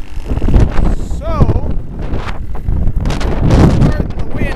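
Outdoor wind buffets the microphone in heavy low rumbling gusts beside a shop, while someone talks over it throughout.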